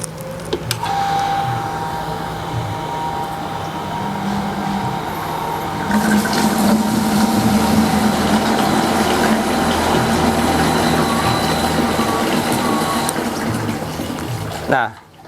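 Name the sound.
automatic electric water pump running, pumping well water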